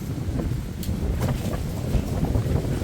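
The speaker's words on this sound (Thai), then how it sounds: "เบิ่งในลม" Strong wind blows steadily outdoors at a rural mango tree, roaring as constant buffeting noise against the microphone with no voices.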